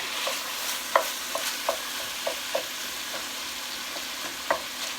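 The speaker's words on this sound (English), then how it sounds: "Let's give it a stir." Meat seasoned with onion granules being stirred in a hot pan, a low sizzle running under scattered clacks of the utensil against the pan, close and steady with no voices.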